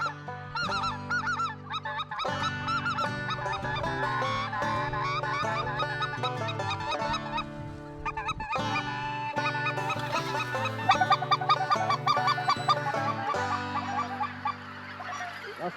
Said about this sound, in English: you still get to watch the birds coming in and working